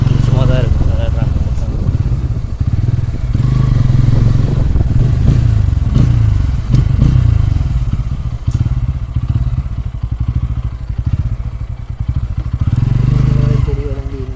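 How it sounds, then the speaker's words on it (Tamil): A Royal Enfield Himalayan motorcycle engine runs steadily close by in an evening park setting, a low throbbing idle that continues throughout while voices talk over it. "பெரிய வண்டி இங்கே இருக்குது, ஹிமாலயா"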